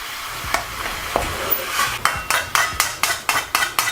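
Lamb mince is stirred and broken down in a karahi, giving a run of rhythmic metal scrapes and knocks that quicken toward the end, with a faint sizzle beneath.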